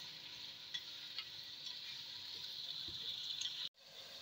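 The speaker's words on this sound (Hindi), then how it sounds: "यहाँ पर ऑयल हमारा गर्म हो गया है, पहले हम प्याज फ्राई कर लेते हैं" Onions fry in hot oil, a faint steady sizzle with light stirring scrapes, cut off abruptly near the end.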